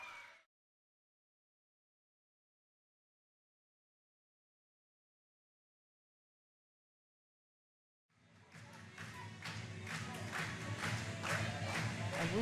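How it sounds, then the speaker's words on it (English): A crowd at a hybrid street fight bursts into loud, sustained clapping and cheering that keeps building, after a brief burst of sound and a long stretch of silence. "And we have the crowd already excited, clapping"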